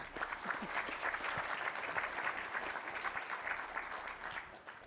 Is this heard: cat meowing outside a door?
no